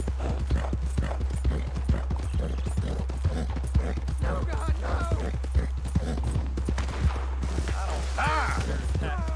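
Horse galloping in the video game Red Dead Redemption 2, rapid rhythmic hoofbeats pounding steadily throughout with a low engine-like hum underneath, some brief calls and game sounds near the end.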